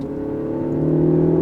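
A Mini Countryman John Cooper Works with a 2-liter twin-power turbo engine in go-kart mode hums with a steady engine drone that swells slightly in revs, heard from inside the car with no talk.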